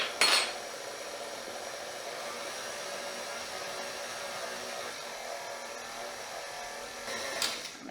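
Electric mixer blending flour into a pumpkin batter in a bowl, a steady whirring motor hum running continuously at moderate volume, with a couple of faint clinks at the start and end, no talking.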